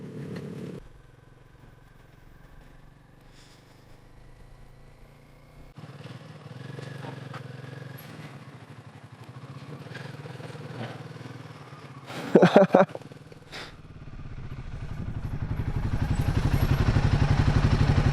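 A motorcycle engine rumbles on a road toward Alaska, its tone shifting as it approaches, with a brief clattering burst midway before the engine noise swells louder toward the end.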